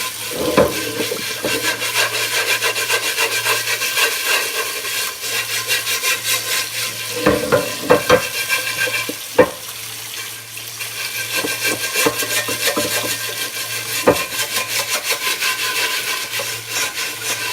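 A FlavorMaster scrubber works over a cast iron skillet with steady, rhythmic rasping strokes, close and loud, with occasional sharp scrapes and knocks and a faint watery background.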